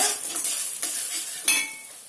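Onions frying in a pan with salt and turmeric: a close, crackling sizzle with a few sharper scraping stirs, easing slightly toward the end.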